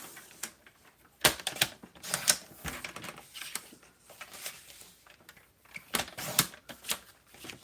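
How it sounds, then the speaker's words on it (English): A die cut machine cuts small paper pieces in a run of close, sharp mechanical clicks and clacks in irregular bursts, with quieter gaps between them and no voice. "let's go ahead and again cut out some of these little pieces with our die cut machine"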